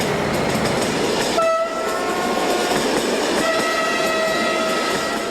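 A Portuguese intercity train running from Faro to Barreiro rolls past in a loud, steady roar, its horn sounding a long sustained tone that breaks off briefly and then returns.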